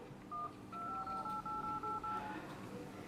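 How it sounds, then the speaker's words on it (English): Dial pad tones from a Xiaomi Mi4 smartphone: a quick run of about eight short, evenly spaced electronic beeps, clear and moderately loud over a faint room background. "that's just only for the dial tone, for the dial pad"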